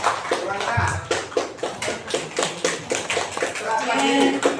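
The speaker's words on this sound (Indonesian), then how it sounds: "Sekali lagi Bapak Ibu tepuk tangan yang meriah untuk Pak Gatot" Clapping at an Indonesian teacher training presentation, a steady rhythmic pulse of hand claps at about three per second. It sounds like a small group clapping in unison, with faint voices in the background.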